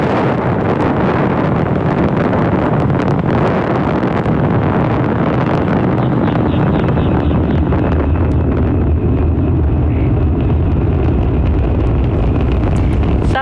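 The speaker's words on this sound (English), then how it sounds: "Falcon 9 has successfully lifted off from Launch Complex 39A, carrying our 53 Starlink satellites into space" A SpaceX Falcon 9 rocket lifts off from Launch Complex 39A carrying Starlink satellites, a loud, continuous broadband roar with heavy crackle and rumble that holds steady throughout, saturating the recording.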